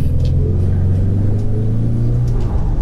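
Ford Mustang 2.3 High Performance accelerating in Sport Plus mode, a loud, steady engine drone with deep rumble that holds throughout with no talking.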